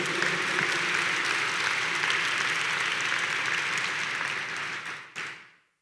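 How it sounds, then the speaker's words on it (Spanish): An audience of law students at an academic event in Peru breaks into sustained, even applause filling the room for about five seconds before cutting off abruptly. "Un aplauso para ustedes."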